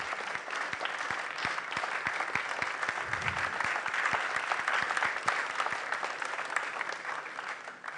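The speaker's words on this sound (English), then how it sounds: "Please express that in an applause for Multi TV" A live audience at a quiz competition launch event claps steadily, dense crowd applause with occasional sharper individual claps standing out, continuous and fairly even for the whole stretch.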